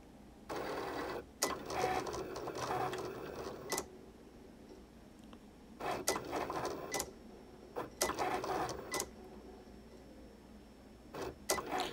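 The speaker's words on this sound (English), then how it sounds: "when you click go, the Cricut is going to write it." A Cricut machine writes with a black pen on card, its motor whirring in short bursts separated by pauses, with brisk carriage movements and clicks, close and fairly loud.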